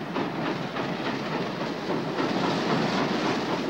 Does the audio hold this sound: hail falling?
no